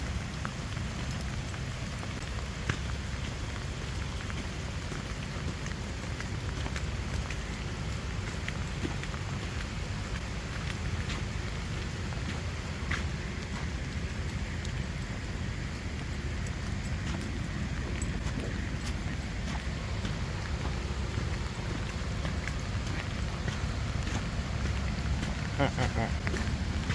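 Steady rain falls outdoors during a wet day's dog walk near a bridge, a dense, continuous close patter and hiss that holds evenly throughout.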